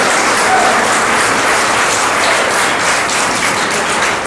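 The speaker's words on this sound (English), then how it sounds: "Give one more shout of applause for our team here." Loud, dense applause from an audience at a workplace improvement team's report-out, sustained and uniform from start to finish with no talking over it.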